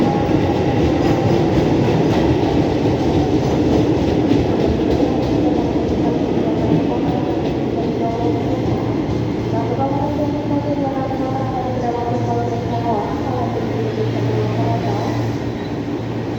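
A KRL commuter train in Jakarta rolls past with a steady rumble and rhythmic wheel clatter, loud and close, continuous for the whole stretch.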